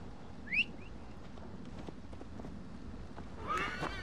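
A horse in the video game Assassin's Creed Valhalla gives a short whinny near the start and another snort-like whinny near the end, over steady low ambient game noise.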